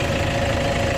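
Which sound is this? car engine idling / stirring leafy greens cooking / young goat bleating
car engine idling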